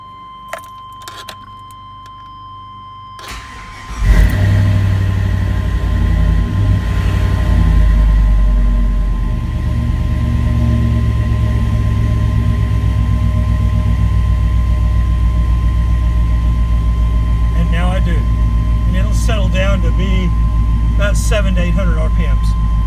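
A 1995 Chevy Cheyenne pickup with an LS swap engine: a few key clicks, then the starter catches and the V8 fires loudly, revving briefly before settling into a steady, rumbling idle that runs close and continuous to the end.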